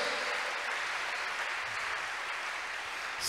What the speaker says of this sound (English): Clap your hands unto God of the chosen.